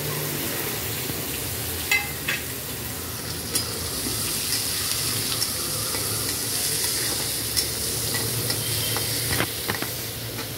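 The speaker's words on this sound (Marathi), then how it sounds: "कांदा थोडा लाल होईपर्यंत परतायचा" Chopped onion sautéing in a pan of hot oil tempered with mustard seeds and roasted peanuts for poha, a steady close sizzle with occasional stirring scrapes and clicks of the spatula throughout.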